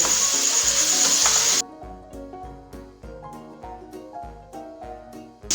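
Ghee sizzles in a pan while coconut halwa cooks, a brief hissing burst at the start that cuts off abruptly, leaving only music playing afterward.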